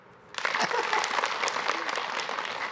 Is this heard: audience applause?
yes